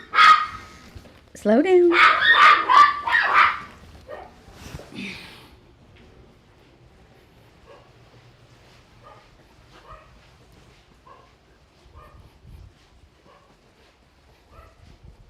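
A Schnoodle, a standard Schnauzer and miniature poodle cross, gives a few sharp, close yips and barks at a grooming session, followed by quieter scattered yelps, with a person speaking briefly at the start.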